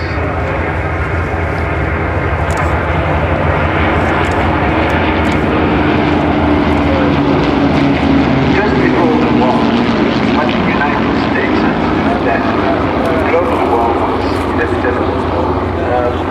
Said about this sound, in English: From the left come the voyager of aircraft flown by young men who at the time learned to fly in Cubs. B-17s and their escorts.